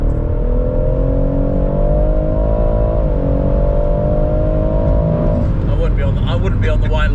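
A Stage 2 BMW M140i at full throttle, its engine droning loud and close in a steady rising pull from inside the car, then easing off near the end as a voice talks over it.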